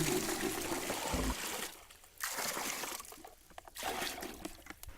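Water fetched from a single shared source at a school in Baringo is poured out for bathing, a steady close trickle and splash in bursts with short pauses between pours.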